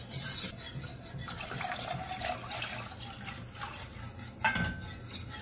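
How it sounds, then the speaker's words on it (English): Milk-based white sauce stirred in a pot: soft scraping and light clinks of a utensil against the pot, with faint liquid swishing and kitchen background noise at low volume. "Continue on stirring."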